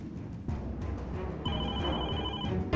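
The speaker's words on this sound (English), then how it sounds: "There goes the phone." A telephone rings with a steady electronic bell tone in a quiet setting from the crime drama Person of Interest, starting partway through and continuing at moderate volume over low background noise, with no talking.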